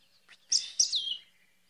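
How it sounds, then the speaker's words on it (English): A chorister robin-chat on an outdoor morning safari gives a short, bright chirping call, a few quick high notes lasting under a second, clear and fairly close in a quiet setting. "That's the call I heard, the one you're hearing now."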